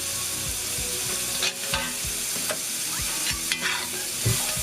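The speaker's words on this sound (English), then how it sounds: "Stir-frying beef is pretty tricky." Beef with oyster sauce is stir-fried in a pan, giving a steady loud sizzle with repeated scraping and tossing strokes of a utensil, close up and without talk.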